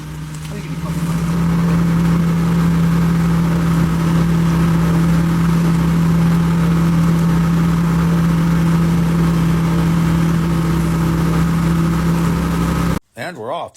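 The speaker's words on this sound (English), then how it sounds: "You just get a rototiller, throw it on the ground, and you go around and around." A small rototiller engine drones steadily while mixing concrete on the ground at a casting site, loud and close for most of the stretch, then cut off abruptly near the end.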